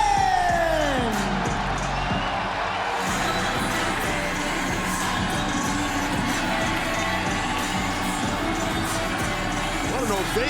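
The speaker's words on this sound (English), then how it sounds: "What an ovation." A packed AEW wrestling arena crowd gives Bryan Danielson a roaring ovation, with loud, sustained cheering, whoops and shouts that fill the whole stretch without letting up.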